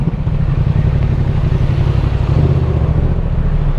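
A loud, steady Yamaha MT-07 2021 engine rumble through an Arrow exhaust, with a deep, throaty note, holding constant without pauses.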